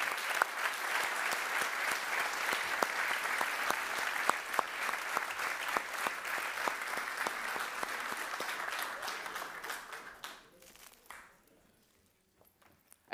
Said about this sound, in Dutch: En ik hoop dat je het applaus gehoord hebt,